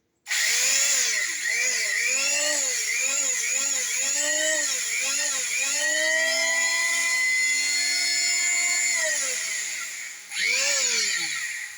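A plunge router power tool being test-run, a loud high whine that rises and falls in repeated revving surges, then holds steady before winding down and briefly revving again.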